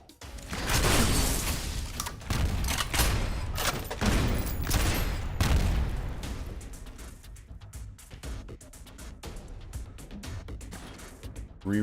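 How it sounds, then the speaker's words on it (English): Rapid bursts of video-game shotgun fire loosing buckshot at an automatic mortar, loud crackling blasts over the first half, then thinning into scattered, quieter shots and mechanical clatter, with no talk. "Three rounds of buckshot. That's all it takes to deal with an automatic mortar."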